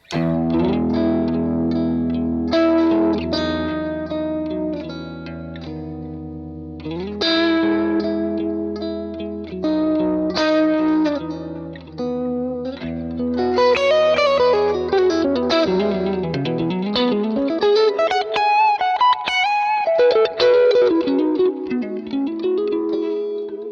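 Electric guitar with single-coil pickups through the Archetype: Mateus Asa amp simulator plugin, processed, slightly driven tone and chorus-like shimmer, playing chords and melodic runs continuously, loud and close.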